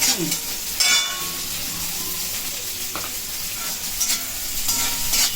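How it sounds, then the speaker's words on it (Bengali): Chopped onion frying in a pan hisses and crackles steadily, with the scrape and clatter of stirring breaking through now and then, close and fairly loud. "পেঁয়াজটা একটু লাল করে নিয়ে ভাজতে হবে বন্ধুরা"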